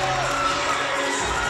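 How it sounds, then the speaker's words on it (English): A volleyball arena crowd at a Hawaii versus BYU men's match cheers and shouts loudly, a dense roar of whoops and high-pitched yells sustained throughout. "The crowd just begging for a run here to get into this thing and go crazy."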